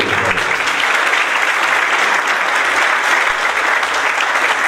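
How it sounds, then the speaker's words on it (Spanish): Sustained applause from an audience welcoming Judge Miguel Ángel Hernández Rivera at a commercial oral-trial training course, a full, even burst of many hands clapping throughout, with a low hum underneath. "Un aplauso para recibirlo."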